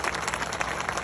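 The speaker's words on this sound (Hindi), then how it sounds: "उनके लिए जोरदार तालियां होनी चाहिए" Brief, steady applause from a crowd at a stage event, a dense wash of many hands clapping with no clear voices.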